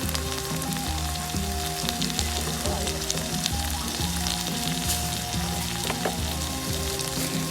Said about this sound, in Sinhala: මේ දේවල් තෙලෙන් මෙහෙම මැලවෙද්දී අපි ඒකටම කපාගත්ත අමු මිරිස් ටිකත්